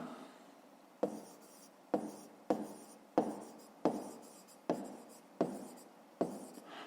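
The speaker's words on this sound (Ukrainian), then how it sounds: "Гаразд, записуємо відповідь" Pen or pencil strokes on paper as a math answer is written by hand, a series of about eight short, crisp scratchy taps at a fairly even pace, close and quiet with no talking.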